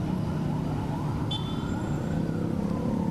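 Siren of one of about seven fire engines fighting a six-storey building fire at the Attorney General's Office complex, heard as a steady wail buried in dense, loud outdoor rumble and noise, with no talk.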